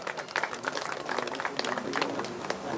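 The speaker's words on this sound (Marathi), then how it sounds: "त्यांच्यासाठी टाळ्या द्यावी सगळ्यांनी" An audience claps at a community gathering during a literary conference, a soft, steady patter of many hands with a murmur of crowd voices mixed in.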